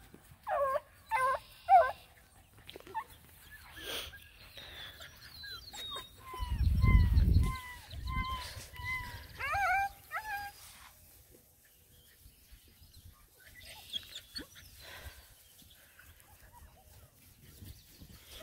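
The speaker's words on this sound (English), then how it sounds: "How old are these puppies, Blossom?" Black and tan hound puppies, about 7.5 weeks old, whimper and yelp in high, wavering cries, with a few short barks and a low thump in the middle, fairly close, fading to quieter whines.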